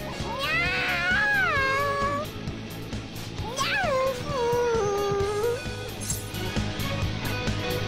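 A cartoon cat character yowls excitedly in a Japanese role-playing game: a string of rising and falling meows, several bunched early and more after a pause, with faint voices and game sounds beneath.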